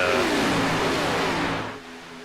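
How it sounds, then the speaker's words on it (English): Race car engine in a sim racing game on a superspeedway roars loudly and steadily, its pitch sweeping as it revs, then drops and fades away near the end. "that engine roar for a little bit."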